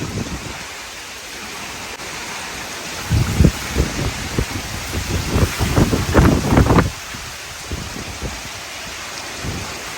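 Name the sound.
strong wind during a storm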